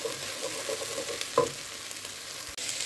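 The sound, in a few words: garlic frying and being stirred in a pan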